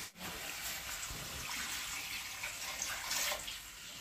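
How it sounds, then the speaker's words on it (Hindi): Spiced water poured into a pan of frying fish curry makes a steady, close hiss and gush of liquid that lasts the whole moment, with no talking. "अब डालेंगे मसाला का पानी थोड़ा हल्का सा झोल बना"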